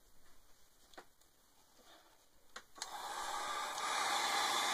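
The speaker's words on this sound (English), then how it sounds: "I think, hit these with my heat gun." A heat gun blows across freshly worked cardstock pages for an art journal advent calendar, starting faintly with a few small clicks and handling noises, then switching on at about 2.8 s as a loud, steady broadband rush that holds to the end.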